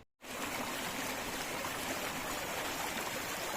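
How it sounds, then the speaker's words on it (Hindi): A mountain stream flows on a forested trail route near Pung Bugyal, a steady broadband rush of water that continues unbroken and fairly close after a brief silent start. "कल कल बहता पानी"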